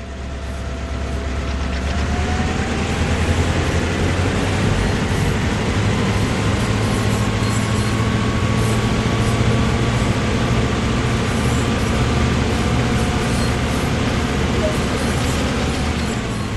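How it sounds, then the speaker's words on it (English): A GP38-2 diesel locomotive in Train Sim World gives a steady, heavy rumble with faint mechanical rattling, droning on continuously, close and unchanging, while under way. "With the train now moving, it's possible to apply more power"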